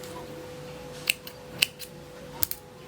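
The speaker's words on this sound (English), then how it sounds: "I'm going to cut my yarn" Scissors snip through crochet yarn in a few sharp, close cuts: three or four distinct clicks spread over a quiet room with a faint steady hum beneath.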